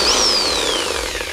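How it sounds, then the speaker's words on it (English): Reciprocating saw fitted with a carbide blade cutting firewood: a loud, dense mechanical buzz with a gliding whine that rises briefly and then slowly falls as the blade bites into the wood, heard up close. "it's just to cut some wood for my heating purposes"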